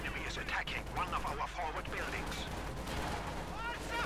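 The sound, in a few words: gunfire in Company of Heroes 2 video game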